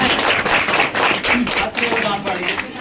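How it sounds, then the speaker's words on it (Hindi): Students clap together during an Independence Day celebration at home, a ragged burst of close handclaps with voices talking over the clapping. "एक बार इसके लिए ताली बजा दो सबके सब।"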